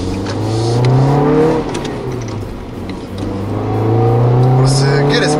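Nissan Note NISMO S small-displacement engine revving hard and accelerating, a loud sustained drone that rises and falls across the run, with people talking in the cabin over it.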